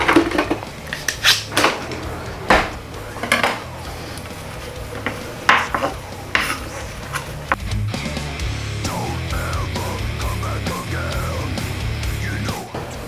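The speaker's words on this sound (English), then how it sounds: "I'm gonna start chopping some cilantro." A knife chops fresh cilantro for a salmon meal prep, giving a run of sharp, uneven taps close by on a cutting board before the chopping fades and a voice talks.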